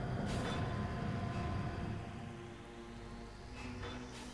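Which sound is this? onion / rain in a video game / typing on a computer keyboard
rain in a video game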